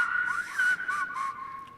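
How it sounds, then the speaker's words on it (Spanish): A whistled language signal produced with the hands for long-distance communication: a clear, loud, sliding whistle that rises and falls in pitch in several connected phrases, heard alone. "entonces utilizan este tipo de silbo"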